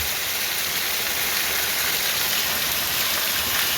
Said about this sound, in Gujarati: વરસાદે વધતો જાય